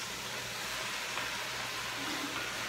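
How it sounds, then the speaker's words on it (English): Steady, dense sizzling of diced tomatoes frying in a pan, a continuous crackling hiss at moderate volume with no voices. "You hear that sizzling."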